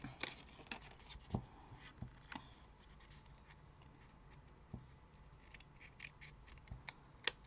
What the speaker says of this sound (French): vous allez couper jusqu'à votre point